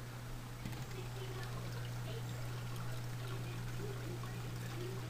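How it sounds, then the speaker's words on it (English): A freshwater fish aquarium with a running power head gives off a soft, continuous trickle of bubbling water over a steady low pump hum. "Bubbles."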